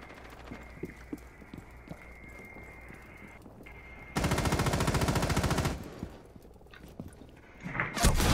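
Rapid automatic gunfire in the tactical shooter Rainbow Six Siege, a loud sustained burst in the middle, then quieter game sounds and a second louder blast at the end.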